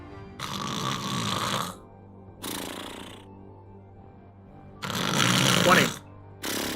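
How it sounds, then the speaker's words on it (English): Loud snoring sounds during a Dungeons & Dragons tabletop session, four separate drawn-out snores with quiet gaps between them, close and clear. "You hear snoring."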